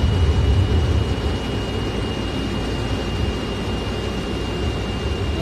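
An F-16 fighter jet flies in Microsoft Flight Simulator 2020 around Hurricane Milton, giving a steady broadband roar with a faint constant whine and no other sound over it.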